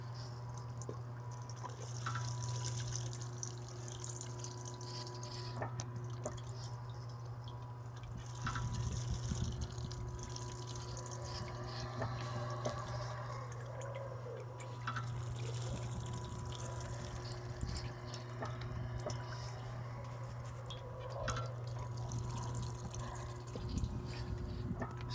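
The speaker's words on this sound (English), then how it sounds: "Again, I just want to crack the valve and show you what kind of fluid we're moving." Fluid runs from a cracked valve on a pumping well, a soft trickle with scattered drips over a constant low mechanical hum, fairly quiet and with no talking.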